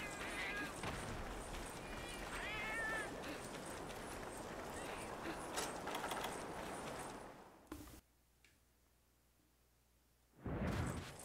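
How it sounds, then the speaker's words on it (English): Cats meowing in the video game Monster Hunter Generations Ultimate, a few wavering mews early on amid busy game sounds and footsteps, then a near-silent gap before the noise returns. "Cats, I doubt you're an issue in this game."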